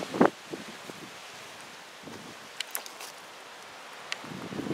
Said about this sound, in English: See how windy and breezy it is.